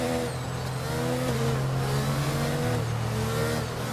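Open-wheel racing car in the F1 2022 video game at the Circuit of the Americas, its engine revving steadily and loudly through gear changes, pitch climbing and dropping, with no voices.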